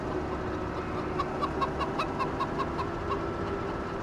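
Repeated chicken clucks from a farmyard in the Farming Simulator 17 game, Belgian-style map, a steady series of short calls over a constant background hum, moderately close.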